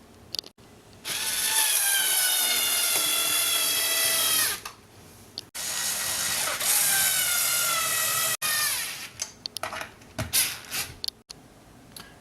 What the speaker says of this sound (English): And then we're going to start putting back in these 6 screws, 3 on each side.